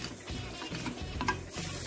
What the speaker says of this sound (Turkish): Biraz kavuracağım soğanlarımı.